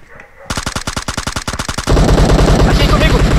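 Automatic gunfire in PUBG Mobile on the Miramar map: a rapid, evenly spaced burst of loud shots, then a dense wall of sustained firing and noise, close and dominant.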